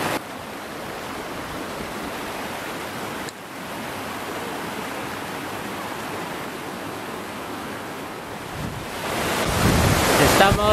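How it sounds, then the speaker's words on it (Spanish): Cascada Diamantes at Parque Ecoturístico Dos Aguas on the Iztaccíhuatl volcano gives a steady, hissing roar of falling water while wind buffets the microphone, the rush swelling louder and closer near the end. "Estamos en la cascada."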